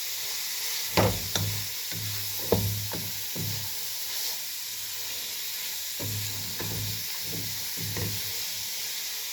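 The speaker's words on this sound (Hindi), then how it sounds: "आपके सामने देखें मैं भून रही हूँ, अच्छी तरह भून रही हूँ।" Grated carrots for carrot halwa stir-fry in a pan, with a continuous sizzle broken by repeated clunks and scrapes of a spoon against the pan. The sound is close, with no voice over it.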